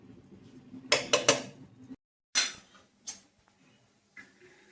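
A metal lid set onto a pot of rice grits soaked in mango juice for steamed mango sandan clatters in three quick, loud clanks, followed after a pause by a few softer knocks and scrapes nearby.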